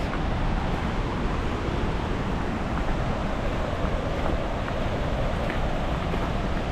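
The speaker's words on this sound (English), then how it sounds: "the rapids are just behind me. You might be able to hear it on the camera" River rapids near High Force waterfall make a constant broadband rushing roar, steady and fairly loud, with no speech over it.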